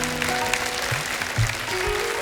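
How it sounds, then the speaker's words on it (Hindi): A television studio audience applauds in a dense, even wash of clapping that holds at a steady level throughout, with a few faint voices and studio sounds underneath. "आप सबकी तालियों के बीच इनवाइट करना चाहूंगा"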